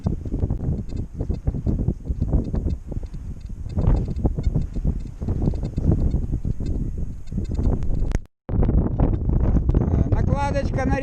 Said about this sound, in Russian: Ветер очень сильный, поэтому кричу.